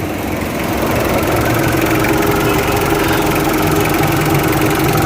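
A Mitsubishi Adventure engine idles close by after an oil, fuel and air filter change, a loud steady rumbling drone with constant mechanical vibration and no voices.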